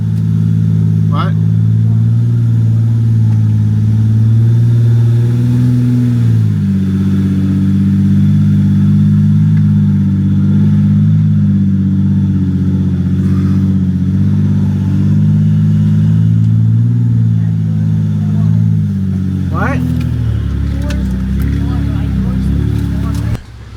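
Off-road vehicle climbing a rock obstacle on a backcountry byway, a loud, steady engine drone that shifts pitch as it works up the ledge, with someone talking over it throughout.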